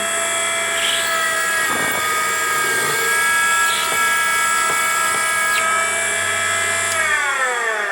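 A Henderson precision trimmer cuts a brass cartridge case with a steady, high-pitched motor whine and tonal grinding, close and continuous, ending as the pitch drops when it winds down.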